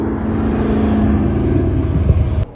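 An Audi R8 with a gated manual shifter idles and revs with a deep, steady engine hum, one short rev blip near the end, then cuts off abruptly; close and fairly loud, no voices.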